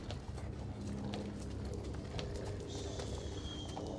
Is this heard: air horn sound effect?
no